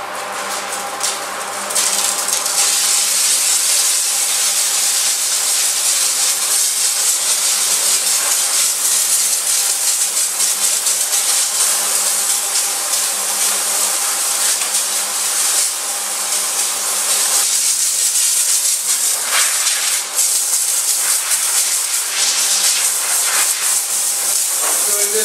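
Steam cleaner working on a shopping cart, a steady loud hiss and spray running almost continuously with slight changes in intensity, close by.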